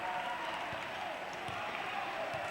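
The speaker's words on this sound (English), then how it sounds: "Crowd on their feet at North Penn" Basketball crowd cheering and clapping after a dunk at North Penn, a dense steady roar of applause, loud and continuous, with speech mixed in.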